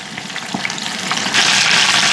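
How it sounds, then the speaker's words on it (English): Wings frying in a home kitchen skillet: a steady, close hiss and crackle that swells louder over the second half, with no one talking. "I know you can hear it frying in the background."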